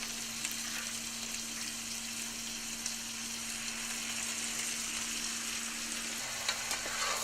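Salmon frying in a pan with potatoes and onions, giving a steady faint hiss of sizzling oil that runs unbroken for several seconds with only a few tiny pops, heard alone.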